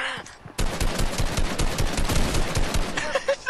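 Rapid bursts of gunfire from a Fortnite match, a dense run of loud shots fired in quick succession for about three seconds.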